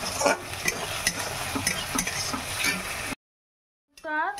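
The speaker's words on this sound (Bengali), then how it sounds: "তো আদা রসুন আর পেঁয়াজটা একটু হালকা লাল লাল হবে, খুব একটা বেশি লাল লাল করবো না।" Ginger, garlic and onion fry in a pan with a steady close sizzle while a utensil scrapes and stirs in repeated strokes, then a brief silence and a short voice at the end.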